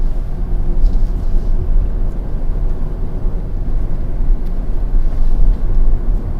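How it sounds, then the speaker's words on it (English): A 2021 Mercedes-AMG GLE 53 Coupe on the move, its exhaust a steady low rumble blended with road and wind roar, heard from inside the cabin at a constant level. "in the comfort mode, you can also enjoy the exhaust sound"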